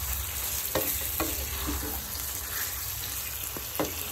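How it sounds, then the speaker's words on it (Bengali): Marinated chicken fries on a high flame for dhaniya chicken and is stirred now and then, giving a steady close sizzle with a few scraping strokes and no voices. "এবার আমি ম্যারিনেশনে চিকেনটা এর মধ্যে অ্যাড করে দিলাম, দিয়ে ভালো করে একটুখানি কষিয়ে নিতে হবে।"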